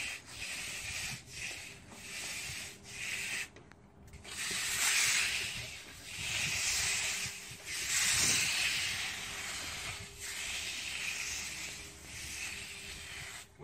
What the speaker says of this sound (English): You're just going back and forth, putting a little pressure down on the mag.